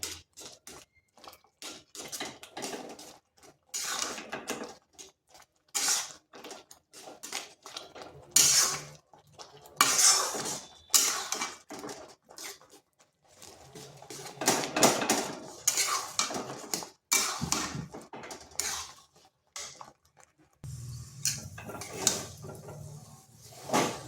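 A spoon scrapes and knocks against a pan as potato and semolina dough is stirred continuously over low heat, producing irregular close clatters and scraping bursts with short quiet gaps between them.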